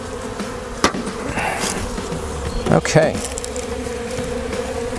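Honey bees buzz steadily as they are shaken off a hive frame, with a few sharp knocks from the frame and a brief spoken word.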